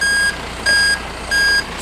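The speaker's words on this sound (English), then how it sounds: "So the truck's finally here." A tow truck arriving to load a broken-down Sprinter van lets out loud reversing beeps, three evenly spaced electronic tones with short gaps between them, heard over a low engine rumble.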